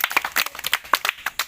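Children clap for a correct quiz answer in a rapid, uneven burst of close handclaps lasting under two seconds, with no voices.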